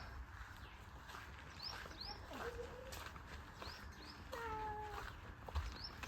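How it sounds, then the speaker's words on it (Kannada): A cat meows a few times at moderate distance amid steady outdoor ambience at Sadhana Forest near Pondicherry, with faint bird-like chirps in the background. "ಸೊ ನಮ್ಮನ್ನ ವೆಲ್ಕಮ್ ಮಾಡೋದಕ್ಕೆ ಸ್ವೀಟ್ ಮಿಯಾವ್ ಇದೆ"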